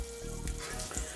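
Herbs hit hot olive oil and melting butter in a pan, setting off a loud, dense, close sizzle that crackles steadily through the whole short moment.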